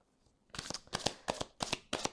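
Tarot cards are shuffled by hand for a love reading, with five quick, crisp riffling bursts close by after a near-silent start.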